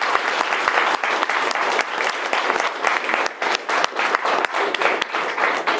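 Dense, steady applause from wedding guests after a speech, many hands clapping together close by and without a break for several seconds, with no talk over it.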